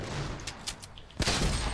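Rapid gunfire in a battle-royale video game, a dense burst of shots crackling loudly and continuously across the whole moment, briefly dipping before resuming.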